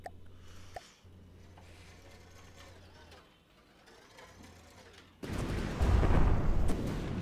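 Pulse weapons fire in a vehicle-combat video game: after a few seconds of faint mechanical hum, a loud, dense burst of crackling weapon fire breaks in and carries on steadily to the end.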